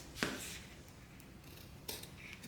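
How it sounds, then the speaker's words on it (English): Scissors trim excess fabric flush with a main panel while sewing a Shamballa Gaviota, giving two quiet, sharp snips about two seconds apart over faint room noise, with no talking. "So I'm going to trim that extra and get it back even with the main panel."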